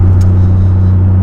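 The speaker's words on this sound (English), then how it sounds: "Oh, there is a car behind me." Steady, loud low engine rumble with a strong droning hum from a car, a BMW following close behind on the road, continuous without pauses.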